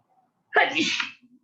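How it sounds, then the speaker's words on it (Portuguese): A single abrupt sneeze bursts out close to the microphone in a classroom lesson setting, a sharp breathy blast lasting about half a second, followed by a faint trailing breath. "Opa, espirrei."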